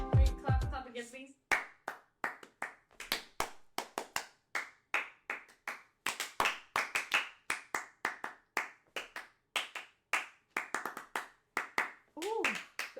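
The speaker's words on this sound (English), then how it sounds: "Wait, clap again, please." Hand clapping with many sharp, close claps in an irregular run, sometimes in quick bursts and sometimes spaced out, with a brief voice at the start and again near the end.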